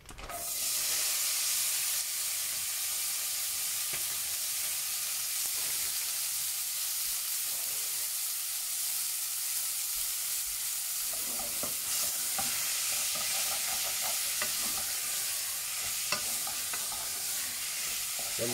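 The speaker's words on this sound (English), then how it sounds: "I'm just doing this just to brown it, I'm not seasoning it yet." Beef mince browns in oil in a pan with a steady loud sizzle and hiss, alone, with scraping stirs throughout.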